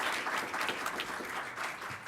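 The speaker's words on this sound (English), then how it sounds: "Let's give him a round of applause." An audience at a board meeting claps for a short stretch, a modest, fairly quiet patter of hands heard on its own with no voices over it.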